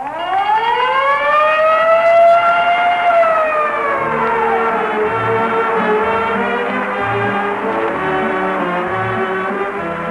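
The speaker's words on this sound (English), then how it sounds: "whenever you hear the siren and bell, think of Texaco." A loud mechanical siren winds up into a long wail and then wavers, with low ringing tones beneath it, closing a vintage Texaco Fire Chief radio broadcast.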